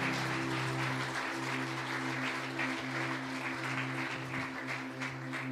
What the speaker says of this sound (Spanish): ¿Por qué no aplaudimos al Señor por esa verdad